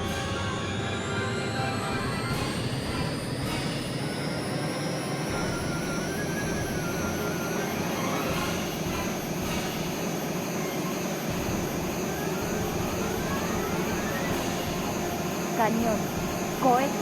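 Harrier jet engine in jet mode in Eagle One: Harrier Attack, a steady whining roar with high tonal whistles that runs throughout at moderate level, with game voice callouts now and then over it.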